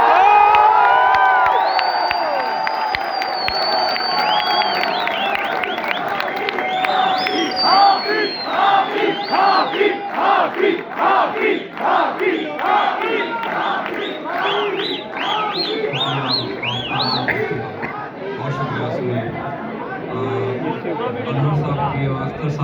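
Audience at a poetry recital for poet Tehzeeb Hafi at QAU Islamabad erupts in loud, sustained cheering, whooping and clapping, a dense crowd roar with rhythmic chanting bursts throughout.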